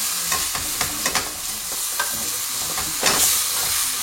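Veal kidneys dusted with flour browning in a pan, a continuous close sizzle broken by quick scraping stirs, with no one speaking.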